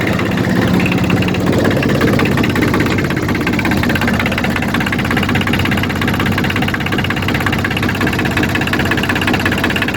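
A Mitsubishi L2E diesel engine fitted to a generator runs steadily and loudly throughout, a dense mechanical clatter and low hum with no voices over it.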